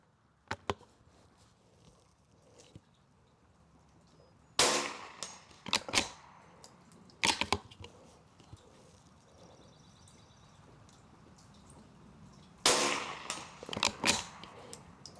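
Bergara B14R rimfire rifle fired during PRS-style position practice: a few sharp, fairly loud cracks spaced several seconds apart, with lighter clicks and handling noise between them and no talking.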